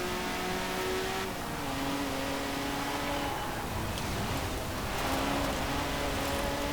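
A Honda S2000 engine in Forza Horizon 4 drones continuously at high revs, pitch shifting up and down through gear changes, with a rushing hiss underneath.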